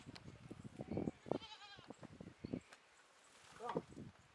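Goats, one of three kept by an elderly man in Jamaica, bleat in short wavering calls at moderate distance, mixed with rustling and a voice nearby.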